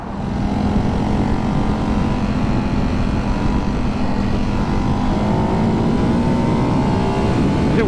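A Ducati 698 Hypermotard single-cylinder motorcycle pulls away with a loud, steady engine drone that rises slightly in pitch as it accelerates, sustained and close throughout without any talk.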